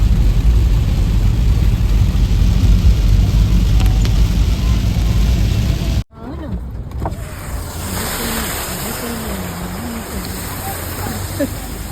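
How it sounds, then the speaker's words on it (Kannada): Heavy rain drums steadily on a moving car during an evening drive from Sirsi to Kumta, loud and close inside the cabin; after a sudden cut, lighter rain and engine hum continue under people talking. "ಸೊ ನೋಡಿ ಸಕ್ಕತ್ತಾಗಿ ಮಳೆ ಹೋಯ್ತಾ ಇದೆ"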